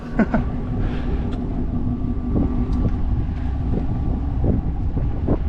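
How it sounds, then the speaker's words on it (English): A damaged 2024 Chevrolet Silverado's engine idles nearby, a steady low rumble with faint clicks and some wind buffeting on the microphone. "Well, that's a relief that it actually runs, so must have a good motor then."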